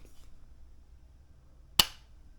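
A single sharp, close metallic snap from the trigger of an AR5.7 rifle breaking, loud and abrupt against a quiet room, with a brief faint sound just before it.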